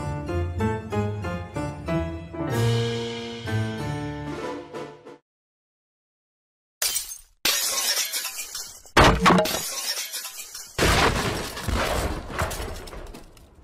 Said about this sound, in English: It sounds like glass breaking again.